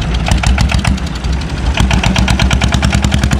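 A boat engine chugs loudly and steadily at close range on the Long Xuyen floating market river, a rapid pulsing idle-like throb with no pauses.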